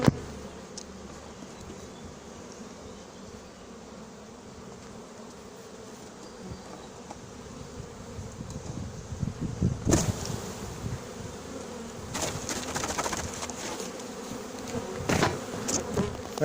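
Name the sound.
honeybees buzzing during hive transfer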